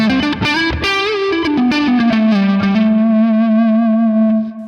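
Heavily distorted electric guitar through a Neural DSP Quad Cortex capture of a Dreadful Purple Nightmare amp plays a quick run of notes, then settles on a long sustained, gritty note that rings out loudly.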